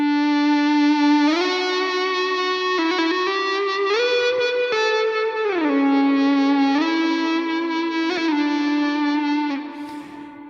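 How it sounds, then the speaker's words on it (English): An eBow drives the pickup of an electric guitar for infinite sustain: loud, smooth, unbroken tones that glide between pitches and hold steady for about ten seconds before fading slightly at the end. "we are going to feed a signal onto our pickup to get infinite sustain on guitar, and it sounds like this."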